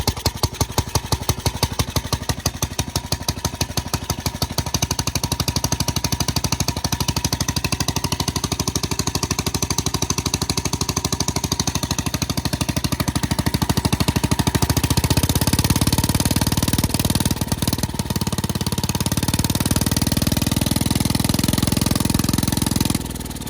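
A 1962 Panzer tractor engine fitted with a new HIPA carburetor fires and runs on a booster pack, a loud close rapid chugging and rattling idle that holds steady and roughens partway through, with no voices.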